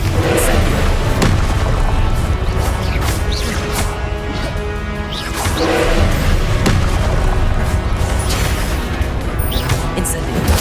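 Repeated booming blasts of the Confringo explosive spell in Hogwarts Legacy, several heavy impacts and crashes spaced through a loud, busy combat soundscape.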